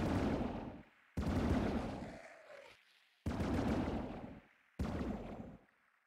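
Gunfire in the video game Cataclysm: Dark Days Ahead comes as four loud, close bursts of rapid shots, each lasting about a second and separated by short silences.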